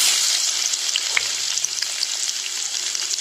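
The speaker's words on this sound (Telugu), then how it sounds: "ఒక టీ స్పూన్ ఆవాలు వేసుకుంటున్నాను. చిట్పట్లాడిన తర్వాత" Mustard seeds spluttering in hot oil while cooking Andhra-style cabbage curry: a close, continuous sizzle dotted with quick small crackling pops at an irregular pace, no talking.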